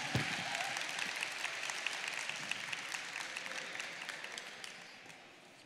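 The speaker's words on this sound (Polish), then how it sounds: "Wielkie brawa raz jeszcze dla pani Aleksandry." Audience applause for Aleksandra Kobielak at the opening of the Polish sport fitness championship in Gdańsk; sustained clapping from a large crowd, steady and fairly even, fading slightly toward the end.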